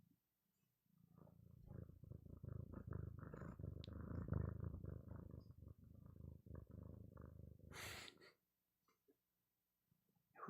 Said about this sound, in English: Besides purring.